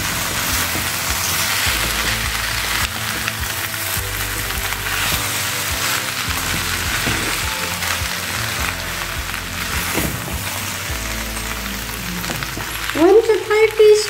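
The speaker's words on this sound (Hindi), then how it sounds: "अब इसमें डालेंगे ये आटा का पास्ता और इस तरह से धीरे धीरे चलाते हुए सब्जियों के साथ मिक्स करेंगे" Atta pasta and vegetables fry in a pan under a loud, steady sizzle while being slowly stirred, with a brief clatter of handling near the end.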